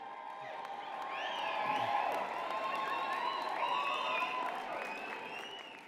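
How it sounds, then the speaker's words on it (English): Graduates at a University of Calgary convocation ceremony cheer, whistle and applaud in a large hall, a sustained crowd wash with whoops rising over it, moderately distant. "Wave and cheer, yell and scream."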